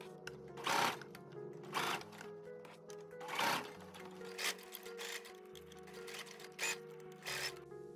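A sewing machine stitches gathered fabric into a shirt in short bursts of rapid whirring, with quiet pauses between runs, close and fairly soft.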